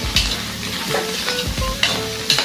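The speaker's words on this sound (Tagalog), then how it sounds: "igisa natin yung baga mauuna" Pig lungs sautéed for bopis produce a loud, close sizzle with repeated scraping and knocking of the spatula against the pan every second or so.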